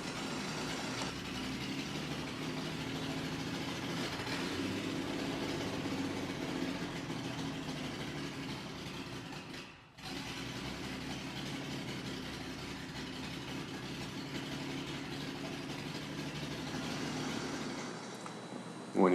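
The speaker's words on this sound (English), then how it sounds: "I decided to warm up the engine and check the compression again" A warm 1973 Triumph TR6 engine idles steadily and evenly for a long stretch, a continuous low rumble with a brief dip partway through, no voices.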